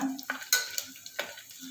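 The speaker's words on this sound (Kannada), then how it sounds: "ಇದು ಮೆಂತ್ಯ, ಕಸೂರಿ ಮೆಥಿ, ಇಷ್ಟು ನಾವಿವಾಗ ಹಾಕ್ಕೊಳ್ಳೋಣ. ಇದು ಸ್ವಲ್ಪ ಫ್ರೈ ಮಾಡ್ಕೊಳ್ಳೋಣ." Dried fenugreek leaves (kasuri methi) with whole spices are stirred in a pan for kushka, giving quiet scraping strokes and light sizzle in short bursts, close and soft, without speech.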